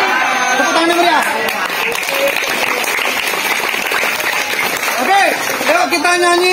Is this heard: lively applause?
yes